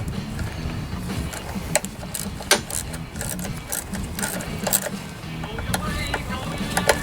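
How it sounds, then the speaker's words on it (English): A 1/4 inch socket wrench clicks and ratchets while loosening the two bolts on a Craftsman lawnmower air filter bracket, close up, with uneven bursts of metallic ticking and small clanks. "After you take off the air filter, you can remove this bracket with a 1/4 inch socket."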